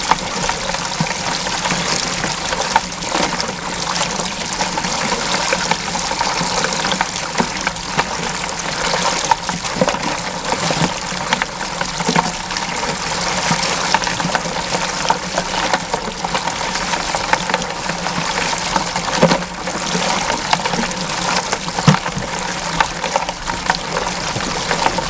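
Water sluicing gravel and sand through a low-cost Gold Cube bucket trommel, a steady broadband rush and churn with a pump-like hum underneath, continuous and fairly loud for the whole stretch with no talking.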